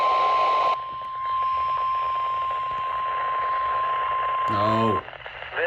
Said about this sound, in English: The preceding signal was a test of the weather radio station's public warning system.